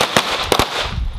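Sharp handgun shots ring out during an instructor shooting drill, with three distinct loud cracks close together followed by lingering outdoor range noise.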